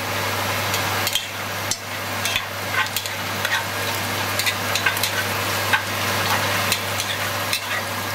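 Onions, garlic and thyme sizzle in a pan while being stirred, a steady loud frying hiss with scattered scraping and tapping clicks of the utensil, close and continuous without talk.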